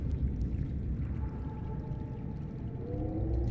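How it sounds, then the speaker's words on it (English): In the video game Subnautica, the character drinks water: a soft gurgling pour over a low rumbling underwater ambience, with faint tonal hums, fairly quiet and continuous without speech. "Drink some more water."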